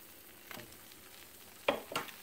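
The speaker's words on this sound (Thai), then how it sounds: "ก็เดี๋ยวเราเอาเผือกใส่ลงไปแล้วก็คน" Taro pieces stirred with brown sugar in a pan give a few soft scraping strokes and a faint sizzle, quiet and close, with no talking.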